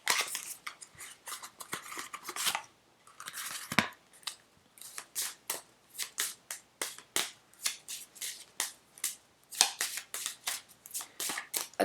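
Lover's Oracle card deck being shuffled, rapid crisp riffling bursts in an irregular rhythm, close and alone.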